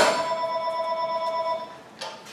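A telephone rings once in a workshop during Ford F-250 ball joint and tie rod work, a clear electronic tone lasting under two seconds before it stops, followed by a faint knock.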